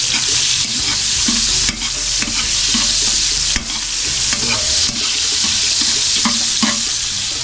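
Garlic frying in hot oil in a home kitchen pan, a loud continuous sizzle broken by repeated scraping stirs of a utensil.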